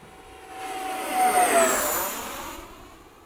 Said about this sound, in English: It's got an interesting sound. This really weird howl.